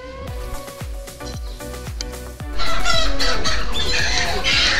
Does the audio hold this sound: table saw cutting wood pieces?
no